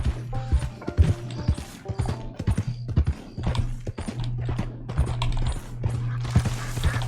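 Horse hooves in the video game Red Dead Online, a rhythmic clip-clop of galloping hoofbeats, loud and close, with tack rattling alongside and no one talking.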